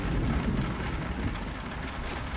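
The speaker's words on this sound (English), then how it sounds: "No way we're making it through this much hail." Hail pours down steadily in a video game storm, a dense, even patter and rumble throughout with no voices.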